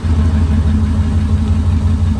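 Toyota LandCruiser engine running at a steady idle, loud and close, a continuous low rumble with no speech.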